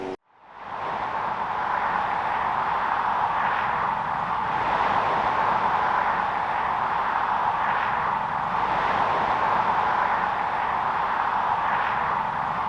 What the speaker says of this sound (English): excuse the road noise, got the main road going in from Newent towards Gloucester.